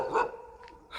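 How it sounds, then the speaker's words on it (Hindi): Dogs barking at night, a couple of short barks nearby, one loud yelp followed by fainter barks, with no talking. "देखो कुत्ते भौंक रहे हैं"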